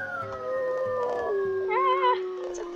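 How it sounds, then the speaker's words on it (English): Wolf pups in WolfQuest give a few thin, wavering howls that slide slowly downward in pitch, with overlapping cries at close range and no talking. "I love the little howls."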